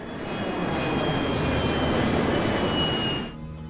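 A loud, steady aircraft engine roar with a droning tone, which abruptly drops away near the end, leaving quieter background noise.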